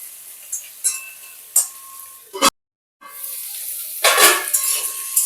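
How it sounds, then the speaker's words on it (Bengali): Potatoes and brinjal fry in a pan with a steady close sizzle, punctuated by a few stirring clatters, a brief silent gap, then a louder surge of frying. "এই আলু আর বেগুনটা কিছুক্ষণ ভেজে নিলাম"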